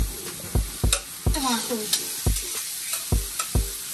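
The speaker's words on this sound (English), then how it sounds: "I put in the onions and the pimentos to saute" Onions and pimentos sautéing in a hot pan for a Caribbean curry, a steady sizzle broken by regular loud scrapes and knocks of a stirring spoon; a voice speaks briefly over it.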